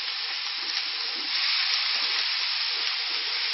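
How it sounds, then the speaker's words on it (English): Bacon frying in a pan gives a steady, dense sizzle with faint crackles and pops, close and fairly loud, continuing without pause and with no voices. "Every now and again you're going to want to flip the bacon so it doesn't burn."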